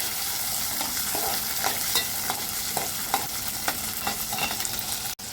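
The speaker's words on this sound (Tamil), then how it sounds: "கடுகு பொரிஞ்சதும் இந்த வெங்காயம் பூண்டு ரெண்டையும் போட்டு" Onion and garlic sizzling in hot oil after mustard seeds have popped, with a steady fry hiss and a few light stirring scrapes in the pan, close and fairly quiet, no talking.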